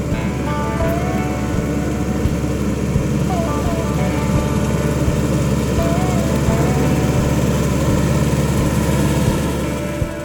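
A mower engine runs while cutting a switchgrass field after hours, a loud, close, steady drone that holds unbroken for the whole stretch.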